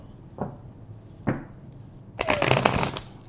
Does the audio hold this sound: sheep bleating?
no